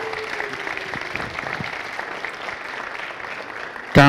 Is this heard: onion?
no